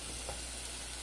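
Chicken pieces seasoned with salt and cumin fry with garlic in a pan for stroganoff, giving a steady, even sizzle throughout with no talk.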